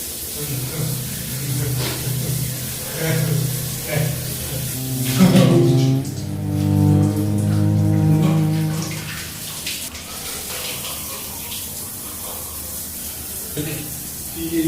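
A cold shower spraying water in a bathroom, a steady hissing spray that swells and shifts midway, with someone talking over it at times.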